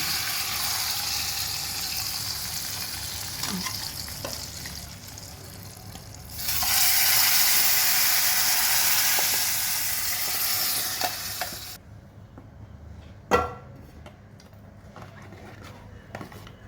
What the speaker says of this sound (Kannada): ಒಗ್ಗರಣೆ ಹಾಕಿದ್ದೇನೆ